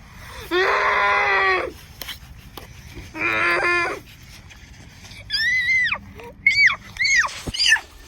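A baby dinosaur screams in a dinosaur-themed show, with long drawn bellowing cries followed by several higher rising and falling shrieks, loud and close, with no talking.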